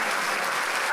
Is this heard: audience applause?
yes